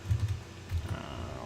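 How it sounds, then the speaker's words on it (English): Close keystrokes on a computer keyboard during a live stream: a short burst of soft, muffled clicks in two quick clusters, with no talking over them. "typing"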